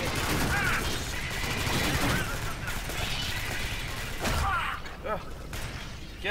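Gunfire in the video game Alien Swarm: Reactive Drop: dense bursts of shooting run almost continuously under excited voices, easing near the end.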